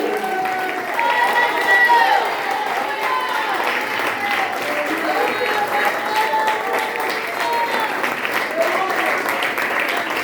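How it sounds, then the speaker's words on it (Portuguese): Congregation applauding in glorification during a church teaching service, a continuous bed of clapping under excited voices and shouts of praise, steady and fairly close for about ten seconds. "tem a melhor salva de palmas de glorificação"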